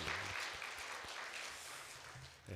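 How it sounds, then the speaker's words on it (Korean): A church congregation claps together during a service at Bupyeong Dongbu Church, a soft, dense wash of applause heard from a distance that stays even and fades slightly before a final swell. "다 같이 성도들과 함께 박수를 한번 치고 싶은데 박수 한번 치겠습니다"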